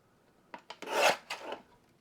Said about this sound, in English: I'm gonna do is just cut this into like 1/4 strips